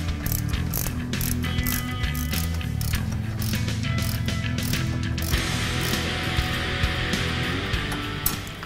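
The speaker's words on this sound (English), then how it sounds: "to remove this caliper, all you do is remove the 2 15 millimeter bolts securing it." A ratchet loosens the two 15 mm bolts holding a brake caliper on a 2015-2020 Mustang during a coilover suspension install. Close, steady, continuous ratcheting clicks run throughout with no talking.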